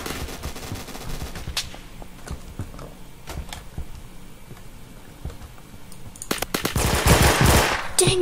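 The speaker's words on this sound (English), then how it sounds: "Oh, this guy's shooting me." Rapid gunfire in the Roblox shooter Phantom Forces, dense bursts of shots crackling steadily and swelling into a louder, heavier volley near the end.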